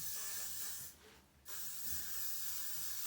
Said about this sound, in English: Give it a blast of hairspray.